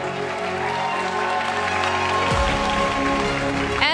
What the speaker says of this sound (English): so don't get tired with your applause